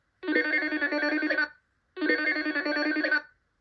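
A telephone in a 1991 French educational reading game rings twice in two long, even electronic bursts separated by a brief pause, clear and close.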